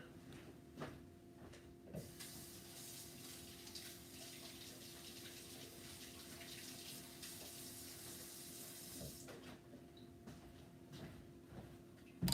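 Tap water runs steadily in a kitchen sink while freshly chopped onions are rinsed, a continuous close hiss with a few clanks and knocks from handling.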